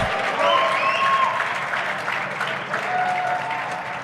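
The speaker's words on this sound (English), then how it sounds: "The crowd definitely appreciated that one." Squash fans in packed stands at the final of the PSA BDO Namibian Open 2025 break into loud, sustained applause and cheering after a shot, a dense crowd roar that holds for several seconds with a few whistles.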